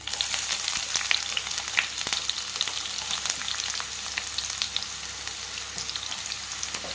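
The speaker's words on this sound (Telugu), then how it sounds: "సన్నగా తరిగి పెట్టుకున్న అంత పెద్ద ఉల్లిపాయ వేసాను" Finely chopped onion frying in about four spoons of oil, a dense crackling sizzle that stays loud and even throughout, close up and without any talk.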